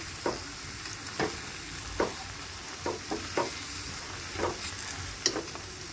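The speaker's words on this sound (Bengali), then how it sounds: "এবার আবারও ভালো করে সব শুদ্ধ মিশিয়ে নেব" Mango murabba mixture with salt and turmeric being stirred in a pan: about eight separate scraping strokes at an uneven pace, close and clear, with no voices.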